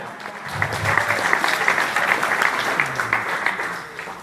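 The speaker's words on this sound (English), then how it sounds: "Give him a round of applause." Sustained audience applause for Joe at an Enagic business training event, a dense wash of many hands clapping steadily for about four seconds, with a low voice or cheer briefly underneath.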